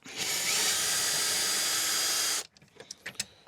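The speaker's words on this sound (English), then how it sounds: "Now hopefully the drill can do the rest. It should do. It's a 24-volt drill." A 24-volt power drill removes rear seat bolts in a Nissan Micra K11, whirring steadily at full speed for over two seconds, then cuts off, leaving a few light clicks and taps.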